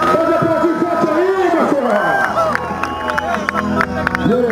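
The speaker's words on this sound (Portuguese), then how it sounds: "Pode aplaudir forte aí" Crowd at a motorcycle stunt show cheering and clapping, with shouting voices and a loud announcer-style voice over a continuous roar of spectators.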